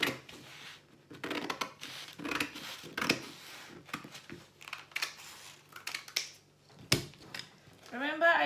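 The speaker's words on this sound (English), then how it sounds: "So I'm going to cut it out so you can see how it looks like." Scissors cut out a paper pattern for a two-piece shirt collar, making a string of crisp, irregular snips close by, with a person talking between the cuts.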